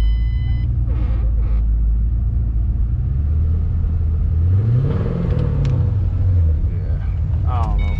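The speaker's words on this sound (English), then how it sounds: "It's probably the muffler rumbling." A modified Ford Mustang Turbo rumbles at a dealer auto auction, a continuous low exhaust drone that swells and falls as it idles and revs nearby, with brief beeps and people talking around it.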